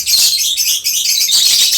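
Green opaline breeding birds chirping in an aviary, a dense run of high, close tweets and squawks overlapping continuously without pause.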